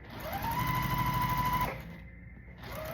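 A sewing machine runs at a steady, fast, close hum while stitching a quilt block unit, stops for about a second, then starts up again.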